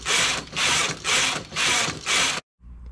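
A knitting machine carriage is pushed across a bed of 46 needles in rhythmic ratcheting sweeps, about five close, loud passes in a row, then a sudden stop followed by quiet.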